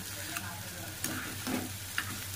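Rohu fish simmers in masala in a pan, giving a soft, steady sizzle with a few light scrapes and taps of a spoon. The sound is quiet and close, and no one speaks.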